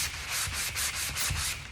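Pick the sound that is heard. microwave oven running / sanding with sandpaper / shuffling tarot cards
sanding with sandpaper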